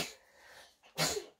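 A single sharp sneeze bursts out close and loud near the end, after a stretch of quiet room noise and a faint breath.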